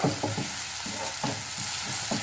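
Onion and spices frying in a pan for a Kerala ripe-mango curry, a steady loud sizzle with rhythmic scraping strokes of a spoon stirring through it, no voices.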